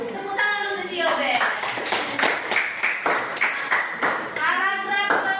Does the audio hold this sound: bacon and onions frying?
no